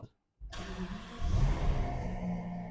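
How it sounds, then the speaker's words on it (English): A 2015 Rolls-Royce Ghost engine starts after a short silence, catching with a smooth rising whir and then settling into a quiet, even idle close by, with someone talking faintly. "Now I'm going to start the engine"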